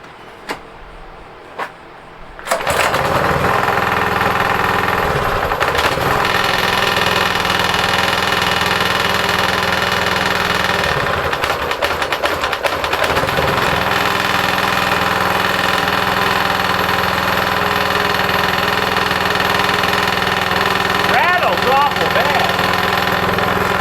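A Craftsman 3300 psi gas pressure washer engine sputters through a couple of short pulls, then catches and runs loud and close at a steady, slightly rough idle for the rest of the time.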